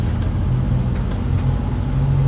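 A Nissan 350Z drives in second gear with a steady, fairly loud engine hum and road roar heard from inside, with no variation in pace and no voices.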